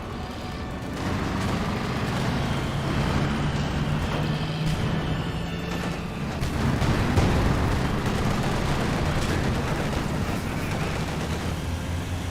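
A heavy mortar barrage in the Company of Heroes 2 battle game: dense, loud rumbling blasts and crackling gunfire roll on without pause, swelling midway, with no talking over them.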